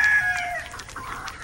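Black hens and other chickens on a farm cluck and call in short, overlapping bursts, with a brief crow-like note, close and fairly loud, no talk.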